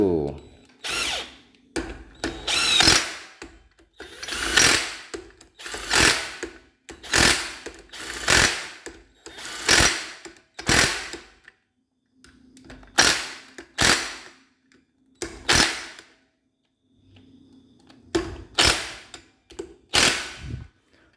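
Clutch bolts being tightened on a six-spring Megapro Primus clutch, a series of sharp, repeated ratcheting and tool bursts in uneven rhythm, fairly close, with short pauses between groups and faint background hum.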